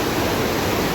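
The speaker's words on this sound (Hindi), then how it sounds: "कितनी तेज नदी" Fast-flowing river near a bridge on the Nepal border at Dharchula, a constant loud broadband rush of water, close and steady.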